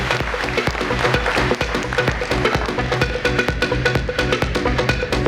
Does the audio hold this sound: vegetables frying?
no